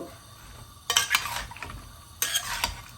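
Chopped onion sizzles in a pan for dried fish curry, and two bursts of scraping stirring with a metal utensil sound over a faint frying background.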